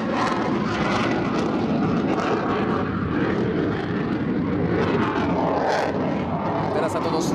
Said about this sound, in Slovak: vzlet tohto lietadla bol sprevádzaný naozaj impozantnou vzduchovou klasikou